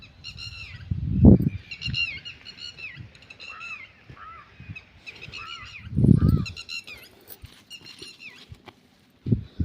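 A crow calls in short cawing bursts near eggs in a farm field at sowing time, with repeated harsh calls over the whole span and a few low thumps and rustles close by.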